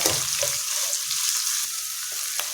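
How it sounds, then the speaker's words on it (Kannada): Medium-chopped onions fry in a pan with a dense, steady sizzle, broken by a few soft stirring scrapes, close up and with no talking. "ಉಳ್ಳಾಗಡ್ಡಿದ ಹಸಿ ಸ್ಮೆಲ್ ಹೋಗೋ ಮಟ್ಟ ಫ್ರೈ ಮಾಡೋಣಂತ"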